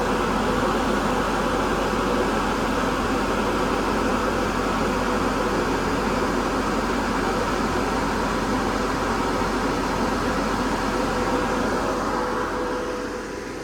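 An HVAC compressor runs on a Hoffman weatherized enclosure cabinet. A loud, steady, broadband mechanical hum and whir is heard up close, unbroken throughout.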